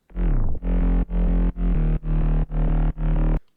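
A gritty mid-bass synth, distorted with the Camel Crusher plugin in a progressive house track, plays six sustained notes in a rhythmic pattern, the first sliding downward, each cut off by brief gaps.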